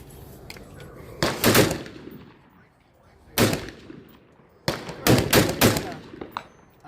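AEA Zeus 16 inch air rifle firing, with three loud, sharp cracks spaced a couple of seconds apart, each trailing off into quiet, heard close over low background noise.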